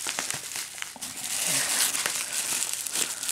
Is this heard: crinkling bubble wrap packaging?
yes